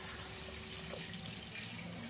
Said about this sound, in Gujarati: હવે આપણે આમાં છાશ એડ કરશું 1 વાટકા જેટલી.